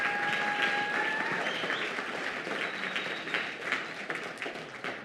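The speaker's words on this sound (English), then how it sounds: "give an applause for Ryan for joining us." An audience at a live climate change talk event claps for a guest, a thick, sustained round of applause with a few whistle-like tones riding over it early on, gradually thinning toward the end.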